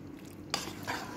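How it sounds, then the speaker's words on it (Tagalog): Macaroni salad with fruit cocktail and sweetened condensed milk is stirred in a bowl, a short close scrape followed by a second wet stroke after a quiet start. "i-mix ko na"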